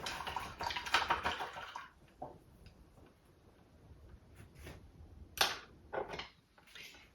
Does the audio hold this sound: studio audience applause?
no